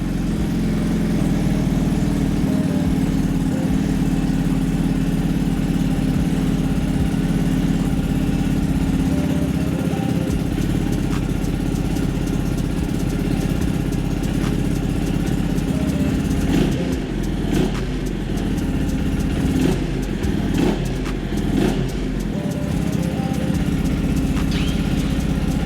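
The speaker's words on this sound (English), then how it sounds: "All right, so that was the stock exhaust. Quick little startup, quick little rev" A Vitacci GTX 250 motorcycle with its stock exhaust idles steadily on a cold start, a close, continuous low engine drone with a few brief blips and rev rises near the end.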